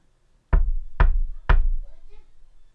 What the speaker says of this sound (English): 3 knocks at her door